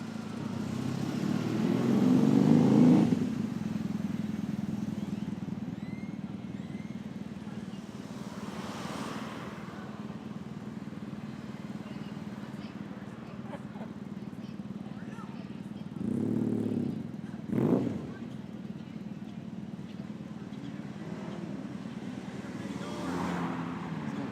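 Cars and a Jeep drive close by at a Halloween gathering, with a steady engine drone and a couple of brief revving surges, while people talk over the engines throughout.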